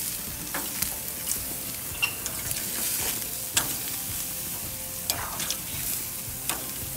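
Texas-style ribeye cowboy steaks sizzling on a grill, a continuous fatty hiss broken by sharp pops and crackles every second or so, close and fairly loud with no talking.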